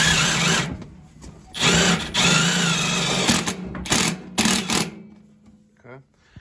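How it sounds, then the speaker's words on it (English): A power drill drives a self-tapping screw through the sheet metal of a Burnham gas-fired steam boiler, in several short whirring bursts separated by pauses, ending in quieter clicks. "Just drill through that."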